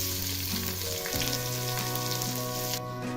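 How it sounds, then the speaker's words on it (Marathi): Rice frying briefly in a pot for jeera rice, a continuous close sizzle with a motor-like hum shifting pitch underneath, steady and fairly loud with no talking. "आता हा तांदूळ भाजून घ्यायचा नाही एकच मिनिट असं परतून घ्यायचं"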